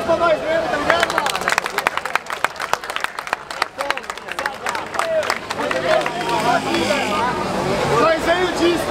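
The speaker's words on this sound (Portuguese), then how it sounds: "Então uma salva de palmas pra nós mesmo" Crowd at a street rap battle final in Barueri, São Paulo, clapping and cheering in a dense, loud burst of applause mixed with hubbub and shouting voices nearby.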